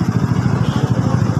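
A Kymco Super 8 scooter engine idles close by at a gas station, a loud rhythmic low putter pulsing evenly throughout.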